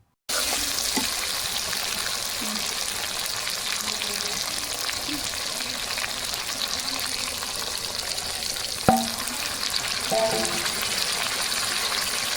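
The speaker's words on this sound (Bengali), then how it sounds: "মাংসটা এবার ভালোভাবে কষানো হবে" Chicken is sautéed and browned in a pan for a Santali-style curry, giving a steady, dense, hissing sizzle throughout, broken by a few faint clinks and scrapes near the end.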